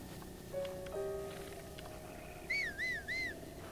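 Short whistles sound in Zelda: Breath of the Wild, a few tonal notes followed by three quick rising-and-falling chirps, clear against a quiet game background.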